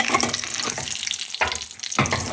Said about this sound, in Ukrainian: І обжарюю на невеликому вогні, щоб ж не горів, а гарно пропікся.